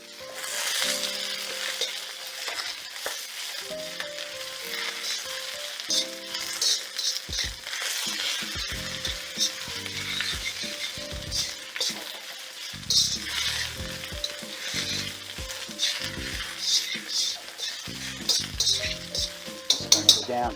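Spinach hits a hot wok of browned garlic and stir-fries with a steady loud sizzle, punctuated by frequent clanks and scrapes of a utensil against the metal, ending in a few sharper knocks.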